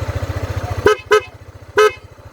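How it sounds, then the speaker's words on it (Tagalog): A Honda AD motorcycle's newly installed loud horn sounds three short honks, two close together and one after a pause, over a steady idling engine putter. "ito yung pinakabit natin busina"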